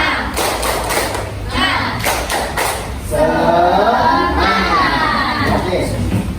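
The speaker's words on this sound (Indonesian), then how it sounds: "Tepuk semangat." A school class does a rhythmic spirit clap, with a series of sharp, patterned claps and thumps followed by children chanting and shouting together loudly in a classroom.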